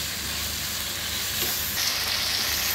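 Tempering sizzles in a hot pan for hagalkai (bitter gourd) sambar, a steady, close, hissing fry that holds for the whole stretch without any talk.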